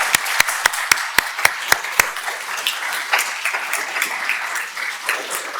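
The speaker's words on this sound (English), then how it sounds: "give a quick round of applause for them one more time just to say thank you" A lecture audience at Cornell breaks into sustained applause, with a few sharp, evenly spaced claps standing out at the start before blending into the steady wash of clapping.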